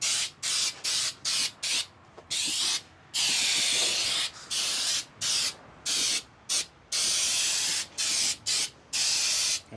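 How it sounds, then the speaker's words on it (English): Aerosol undercoating sprayed onto the frame rail of a 1989 Marmon truck, a series of close hissing bursts of varying length, some short and clipped, others held for a second or more, separated by brief silences. "spray some undercoating in there"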